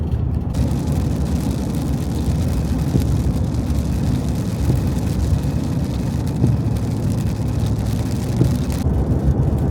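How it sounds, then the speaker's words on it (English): A car drives along an outback road in Queensland with a steady, loud rumble of engine and tyre and wind roar. The sound stays constant and close throughout, with no voices. "we've been driving for a good few hours"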